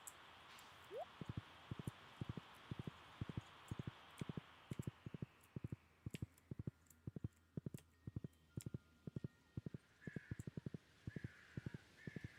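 Steady clip-clop of horse hooves in a VR space farming game, a rapid regular run of sharp, close hoof strikes continuing throughout, with a faint tonal hum in the background.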